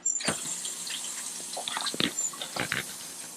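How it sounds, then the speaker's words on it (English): Warm tap water runs and splashes in a sink while surgical instruments are rinsed for cleaning at a wildlife rehabilitation centre, a steady close stream with scattered clinks and knocks. "So you're just going to use some warm water."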